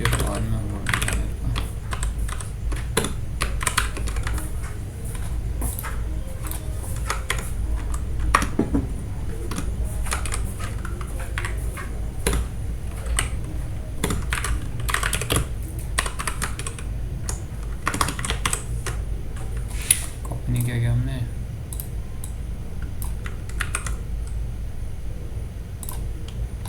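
Steady, rapid keystrokes on a computer keyboard during a LeetCode coding session, a dense run of close clicks continuing throughout with a few louder taps.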